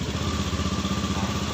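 A Honda Beat scooter engine fitted with a DLC research tuning unit, set to mode 1, runs close by with a steady, evenly pulsing idle throughout, loud and alone with no talking.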